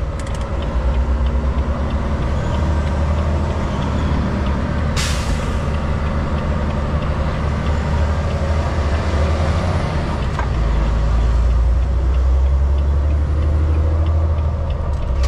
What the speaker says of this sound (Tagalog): Ayusin natin mamaya, painitin muna natin ang truck.